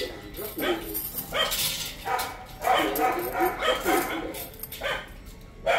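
Several dogs bark and whimper close by in separate loud bursts with short yips between them, one group of five dogs together.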